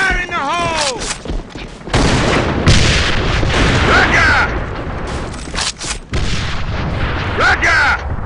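Grenade blasts and heavy gunfire in the shooter game AVA fill the clip with dense, loud, continuous bursts, with brief radio-style voice callouts heard in between.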